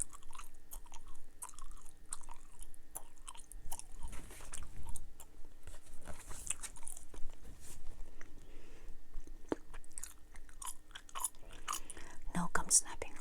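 Watermelon and strawberry Dubble Bubble gum is chewed close to the microphone in wet, smacking bites, steady and intimate, under soft storytelling speech.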